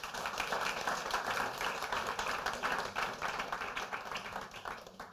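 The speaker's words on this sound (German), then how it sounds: "Bitte ein dicker Applaus." Fairly quiet applause from an event audience, a crowd clapping steadily at a distance for several seconds and easing off slightly toward the end.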